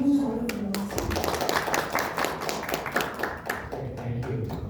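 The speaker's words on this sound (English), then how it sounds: "please give a huge round of applause" An audience at a hospital event honoring a polytrauma recovery team gives a round of applause, a steady patter of many hands clapping at moderate distance, with some voices mixed in.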